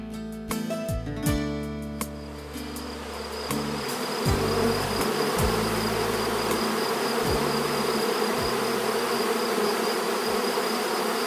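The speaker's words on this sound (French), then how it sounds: "Le vrombissement des milliers d'abeilles et leur vol circulaire est fascinant." A loud, dense swarm of honeybees leaving hives drones steadily, thousands of wings blending into one continuous buzz with a few deeper hums passing close early on.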